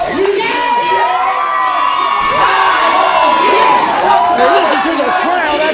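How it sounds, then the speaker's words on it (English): Loud wrestling crowd roaring and cheering at a live event right after a main event tag team match is announced, with shouts, whoops and chatter filling the whole stretch steadily. "Listen to the crowd after the announcement Cersei just made, making a huge main event"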